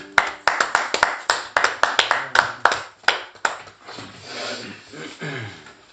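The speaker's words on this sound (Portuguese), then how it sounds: "Um aplauso para Jesus aí." Small church cell group clapping in a quick, sharp rhythmic burst of about a dozen claps that gives way to scattered looser applause and murmuring voices near the end.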